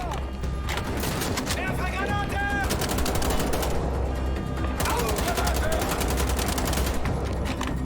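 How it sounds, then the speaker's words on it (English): Dense, continuous gunfire and explosions from a firefight against Nazi soldiers in the video game Wolfenstein: The Old Blood, loud and sustained throughout with rapid overlapping shots. "Shoot those Nazis, Blazkowicz!"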